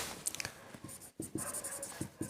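Chalk or marker strokes on a classroom board during a lecture on crystal lattices, a series of short scratchy taps and strokes in an irregular rhythm, close and fairly quiet, with no talking.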